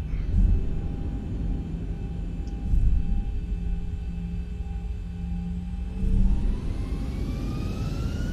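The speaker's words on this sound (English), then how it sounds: "Alright, so bring our engines up." Airliner jet engines spooling up on the runway for takeoff in X-Plane 11, a deep steady rumble with rising whining tones climbing in pitch near the end, loud and close.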